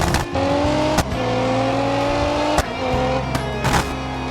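Modified minivan engine on a race track, loud at full throttle, with several sharp backfire pops cracking over the steady engine roar at about one, two and a half, and near four seconds.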